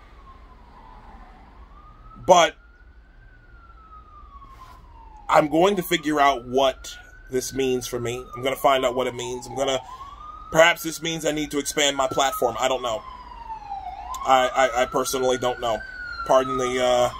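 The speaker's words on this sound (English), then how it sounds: "Pardon the siren." A police siren wails on a busy Brooklyn street on a weekday afternoon, its rising and falling tone sweeping steadily underneath someone talking close to the microphone.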